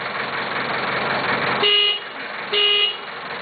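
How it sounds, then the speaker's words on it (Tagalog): A car horn honks twice, two short blasts about a second apart over a steady background rumble. "Pipit mo, pipit. Busina, busina."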